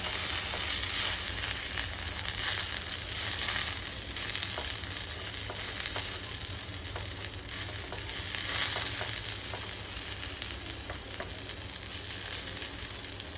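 Bhendi (okra) frying with masala in a pan: a continuous hiss of sizzling oil with faint crackles and occasional stirring scrapes, close and steady, with no voices.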